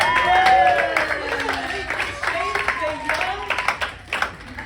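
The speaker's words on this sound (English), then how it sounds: "Can we clap it up?" Applause and clapping from the audience at a comedy set in a loft venue, dense clapping fading into scattered claps, with someone talking over it.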